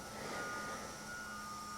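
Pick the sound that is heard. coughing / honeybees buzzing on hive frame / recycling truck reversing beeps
recycling truck reversing beeps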